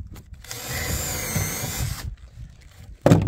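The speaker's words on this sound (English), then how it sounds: "and then you pre-drill" A power drill bores at an angle into a deck board for a circular yurt platform, a loud whirring burst of about one and a half seconds between quieter gaps, then a sharp knock at the end.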